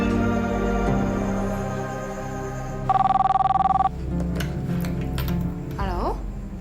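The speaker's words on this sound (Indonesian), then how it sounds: "Coba kamu telepon dia sekarang ya." An electronic telephone ring trills steadily for about a second, loud and close, rising over a bed of music and background sound, with a voice nearby.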